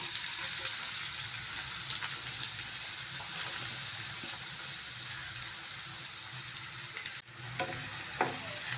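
Finely chopped onions sautéing in oil with cinnamon and cloves for a chicken gravy, a continuous close hissing sizzle with occasional stirring scrapes and one brief knock of the utensil near the end, no talk.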